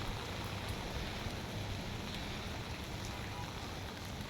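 Steady rain falls in Kuwait, a dense, even hiss of drops on surfaces with a low rumble underneath, continuous and fairly close throughout.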